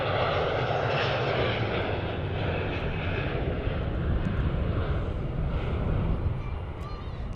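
A FedEx cargo jet arriving at the Cincinnati CVG cargo hub roars at a distance, a broad sustained engine rumble and hiss that swells and stays loud throughout, with faint voices in the background.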